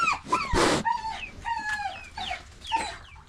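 Dogs whimper and yelp in a run of high, sliding whines with one loud bark-like burst near the start, close by, with poultry clucking around them on a farm.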